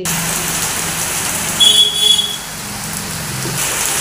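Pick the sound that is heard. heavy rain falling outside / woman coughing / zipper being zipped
heavy rain falling outside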